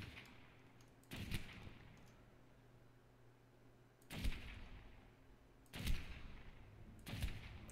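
Sniper rifle shots in ARK: Survival Evolved, four sharp cracks spread irregularly over several seconds, each with a short decaying tail over a low background hum.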